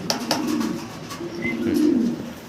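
Pigeons at a farm, including Roman and jet-black birds, coo in low throaty rolling calls, close and fairly loud, with a few faint higher chirps mixed in.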